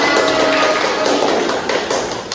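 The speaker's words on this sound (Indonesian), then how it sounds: "Kita beri aplaus dulu teman-teman." Classroom applause after a student presentation, a dense, steady patter of many hands clapping at close range for about two seconds, gradually thinning toward the end with no voices over it.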